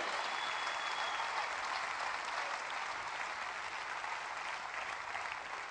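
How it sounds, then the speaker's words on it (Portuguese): A studio audience at a Póvoa de Varzim comedy show gives sustained, dense applause, a steady wash of clapping from many hands that holds at an even level throughout. "Uma grande salva de palmas para o Elídio Moreira e toda a sua equipa"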